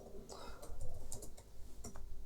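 Quiet keystrokes on a computer keyboard come in short uneven bursts of clicks over a faint background hum, with no one talking.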